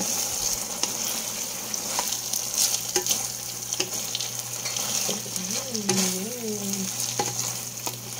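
Sweet and sour chicken seasoned with pepper powder sizzles steadily as it is stirred in a pan, with a few utensil clicks, close up and alone, with a faint whistling tone partway through.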